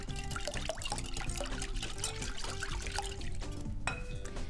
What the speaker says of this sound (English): I'm going to add half a cup of soy milk